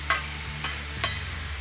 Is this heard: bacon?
yes